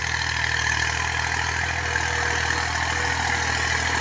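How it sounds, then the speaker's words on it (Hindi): A tractor pulling a plough through freshly watered farmland for a sweet sorghum crop, its engine droning steadily and fairly loud throughout with no pauses or changes in pitch. "इस पे हल चलाया जा रहा है ट्रैक्टर की मदद से।"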